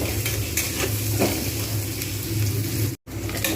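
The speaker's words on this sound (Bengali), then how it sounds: "এইভাবে আমি আস্তে ধীরে পেঁয়াজগুলোকে লাল করে ভেজে নেবো" Onions frying slowly in oil until reddish for a Bengali banana-flower curry, a steady close sizzle with occasional stirring scrapes and a very brief break near the end, no talking.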